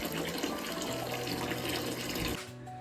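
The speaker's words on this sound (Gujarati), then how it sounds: "આપણું પાણી ભરાય છે" Tap water runs steadily into a container being filled for washing, a soft continuous splashing that stops abruptly near the end.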